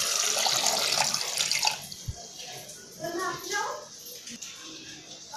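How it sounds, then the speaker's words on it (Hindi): Water splashes and pours noisily into a pressure cooker holding potatoes for chole, for a couple of seconds, then fades to softer trickling while a voice speaks nearby. "और इसमें हम पानी ऐड करेंगे।"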